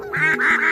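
Ducks honk at night in a quick burst of two or three nasal, goose-like squawks, close and fairly loud, all within a second.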